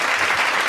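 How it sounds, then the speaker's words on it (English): A brief burst of dense audience applause, steady and loud throughout with no break. "You need an applause for that."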